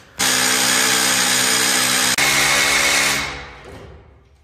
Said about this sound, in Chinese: 打孔所用的工具也是我们日常装电动晾衣架用的钻头，打10毫米或者12毫米的